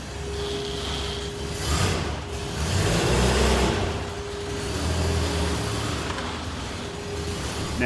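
A restored car's engine running while being driven, a steady low mechanical drone with a couple of rising surges as it pulls away, fairly close and without voices.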